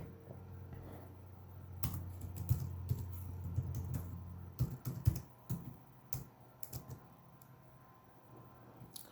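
Code is typed on a computer keyboard in quick, irregular bursts of close key clicks and clacks. A low hum sits underneath, and the typing tapers off toward the end.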